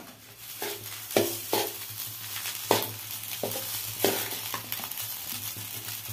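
Homemade fried rice is stir-fried in a hot pan, a steady sizzle broken by about a dozen sharp, rhythmic scraping strokes of the spatula, close and with no talking.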